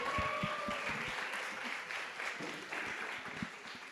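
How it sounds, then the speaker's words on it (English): Audience applause for a presenter, Miss Williams, at a lecture, steady clapping across the room with some voices underneath, gradually easing toward the end. "give Miss Williams a round of applause,"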